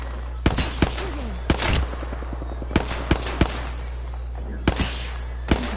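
Gunshots in a video game ring out as sharp, separate cracks, several single and paired shots scattered irregularly over a quiet background hum, fairly close, with no talking.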